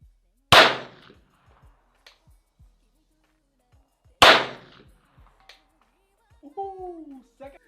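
A CZ Scorpion Evo 3 firing at a steel target 200 yards away produces two loud, sharp shots separated by a few seconds, each trailing off quickly into faint echoes. A short stretch of speech follows near the end.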